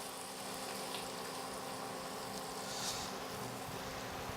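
Chopped homegrown onions cook gently in bacon fat, giving a faint, steady, even sizzle with no distinct pops, heard alone without any speech.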